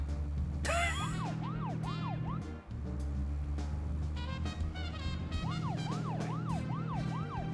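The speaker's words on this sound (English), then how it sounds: "we did luck out with a car that has the siren boost" Within the video game Deadly Premonition, a car's siren wails in repeated rising and falling sweeps, loud and close over a steady engine hum, pausing once briefly before resuming.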